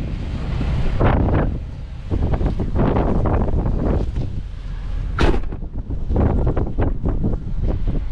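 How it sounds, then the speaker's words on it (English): Strong storm wind roars and buffets the microphone in rushing gusts across open ground, with rattling thumps and creaks of a truck shaking under the blasts. "There's nothing blocking that wind and it is ripping across here right now."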